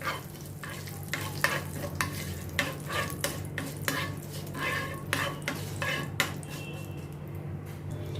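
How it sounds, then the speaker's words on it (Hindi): Curry leaves and a pinch of asafoetida crackle and sizzle in hot oil while a utensil stirs and scrapes the pan, with repeated sharp pops over a steady frying hiss, close and moderately loud, no talking. "इनको थोड़ा अच्छी तरह से मैं चटकने देती हूँ।"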